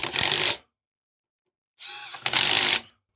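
A power drill runs in two bursts while tightening bolts to resecure the motor on a BigTex dump trailer, with a short whirr, a long pause, then a longer run that stops and restarts. Loud and close, with no talking.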